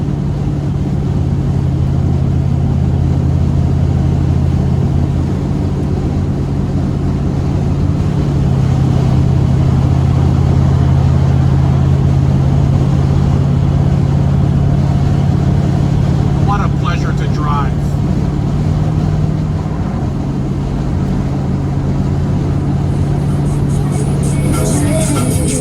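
A 1977 Chevy C10 pickup on 20-inch wheels and tires cruises steadily down a road, its engine and tire hum a constant, close drone for the whole stretch while someone talks over it.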